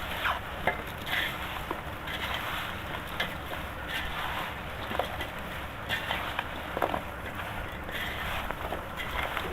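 Mango pickle mixture being stirred with oil for aam ka achar, giving a steady close scraping and churning texture with small irregular clicks, continuous and fairly loud, with no talking.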